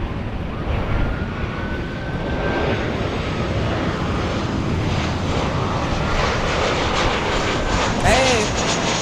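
A Southwest Boeing 737-700 from Phoenix comes in to land at LAX with a sustained jet roar that swells slightly toward the end, with a voice talking over it.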